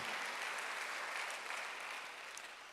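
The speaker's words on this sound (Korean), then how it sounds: "박수요." Church congregation clapping during a Sunday worship service, a steady wash of applause that stays fairly even and fades slightly toward the end, no speech over it.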